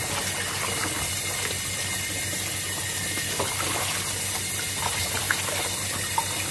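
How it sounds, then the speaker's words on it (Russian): Tap water running steadily into a kitchen sink, a constant close splashing rush at moderate level with small drips and knocks, no talking. "Девочки, я включила воду"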